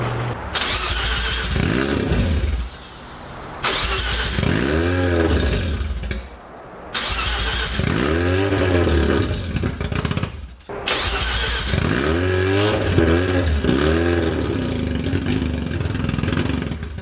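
Mazda RX7 rotary engine cranking, catching and revving repeatedly, loud and close, with rising and falling rev sweeps and brief drops between pulls.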